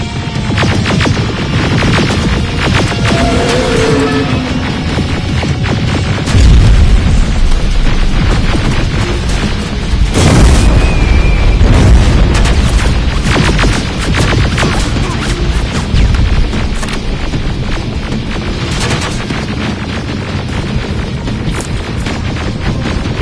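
Grenade explosions in the video game Terminator Resistance give loud, heavy booms over a constant, dense roar of combat noise, with stronger low blasts standing out every few seconds.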